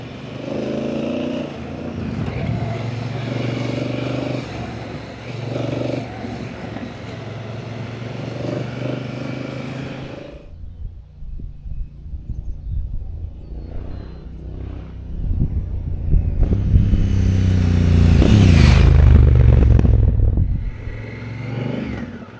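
Motorcycle on a rutted dirt road, its engine droning steadily and loud for about ten seconds, then dropping to a rougher idle with rattles before revving and surging hard again near the end.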